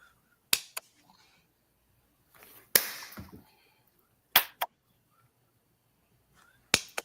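Sharp claps ring out in quick pairs against near silence, two close together, then a noisier rustling stretch, then another pair and a final single clap near the end, fairly faint and slightly roomy.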